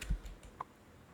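A few light keystrokes on a computer keyboard, faint and sparse, with a couple of soft taps near the start and a small click partway through in an otherwise quiet room.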